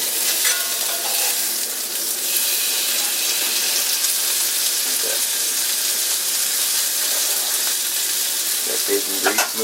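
Bacon grease sizzles and crackles steadily in a cast iron pan, a dense continuous frying hiss that stays loud and close with small pops throughout.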